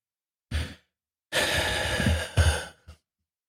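A person draws a deep breath close to the mic: a short inhale, a pause, then a long audible breath in and out with a sigh-like release, alone in silence.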